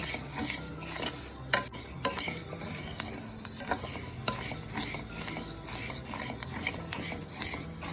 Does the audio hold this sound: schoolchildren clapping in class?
no